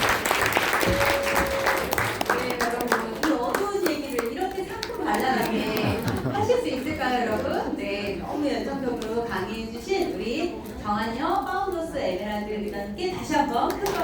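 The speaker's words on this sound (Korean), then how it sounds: "다시 한번 큰 박수 보내드리도록 하겠습니다" Audience applause at a Korean team meeting or seminar, a steady wash of many hands clapping near and loud for the full stretch, with voices and a child's chatter mixed in beneath.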